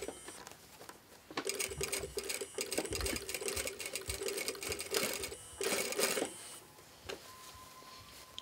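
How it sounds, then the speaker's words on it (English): A sewing machine edge-stitches a collar band, running in bursts of rapid, close mechanical whirring and clatter with short pauses between runs and a final stop, and no speech. "We are making edge stitch at the collar band."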